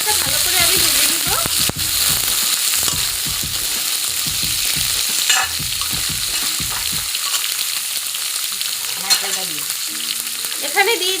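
Raw chickpeas fry in a spice tempering for a vegetarian Bengali taro curry, hissing in bright, continuous oil sizzle broken by scraping stirs, close and fairly loud, with a few faint voices.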